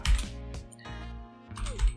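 Quick bursts of typing on a computer keyboard, several close, crisp key clicks in uneven clusters with short pauses between them, no voices.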